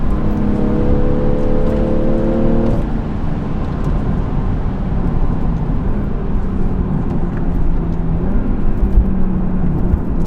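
A BMW G20 M340i's engine drones loudly and steadily throughout, with a brief rising tone early on, recorded close from inside or near the car.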